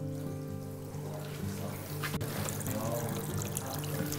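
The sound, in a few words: water flowing through a river model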